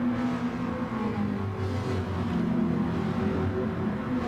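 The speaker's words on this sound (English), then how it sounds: "it does sound gorgeous, that Ferrari" A Ferrari GT4 racing car engine in a sim racing game drones and revs continuously at a steady pitch, with a synthetic, game-like tone and no voices.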